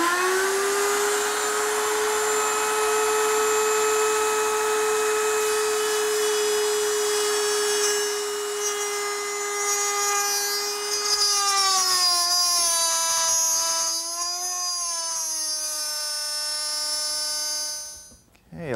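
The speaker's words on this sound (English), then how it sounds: "trying to make a deep plunge cut in one shot is hard on the router and on the bit" A small-bit router plunges into wood, its steady high whine holding loud and even, then wavering and dipping in pitch as the bit bites deeper before cutting off abruptly at the end.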